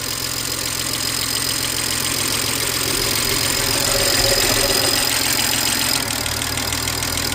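A 2007 BMW 335xi engine idles steadily up close, with a fast, light ticking clatter from the injectors running through the rumble the whole time.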